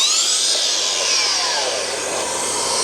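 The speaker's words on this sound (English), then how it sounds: "and our vacuum is going." A Makita AWS dust extraction vacuum running steadily and loudly close by, a broad whooshing roar with a whine that drifts slightly in pitch, heard alone without talk.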